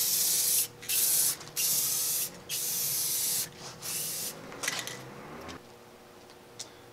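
Several bursts of Rust-Oleum glaze spray hiss from an aerosol can onto a bicycle wheel part, close and loud with short pauses between them, then a softer final spray that tapers off.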